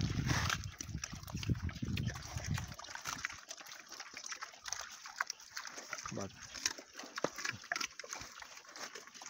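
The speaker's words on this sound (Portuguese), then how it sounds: "Estamos hoje aqui botando palma para os porcos. Aqui, ó, se alimentando." Pigs feed on cactus pads in a farm pen, wet chomping, slurping and snorting up close, with some grunts and a person talking over part of it.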